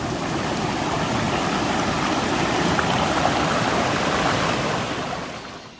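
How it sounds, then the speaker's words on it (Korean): Water rushing down from a waterfall at Seoraksan on a rainy day, a loud, steady broadband roar that holds close and constant before easing slightly at the end. "이거 포항성 폭포에서 내려오는 물이에요"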